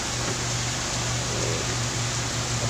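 Heavy rain pours down in a sudden downpour that quickly floods the ground, a dense, steady hiss with no break and no voices.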